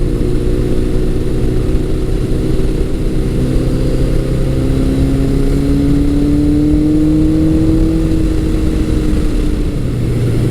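1982 Suzuki GS1100G motorcycle engine on the road, a loud steady droning hum with wind rush whose pitch rises gradually as the throttle is rolled on, then settles near the end.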